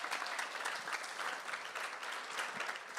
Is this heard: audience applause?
yes